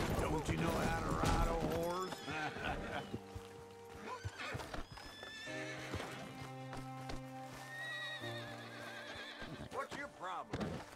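A horse in Red Dead Redemption 2 gives a loud, close neigh and snort at the start, followed by hoof clip-clop and game sounds, with sustained musical tones underneath and a voice talking over parts of it.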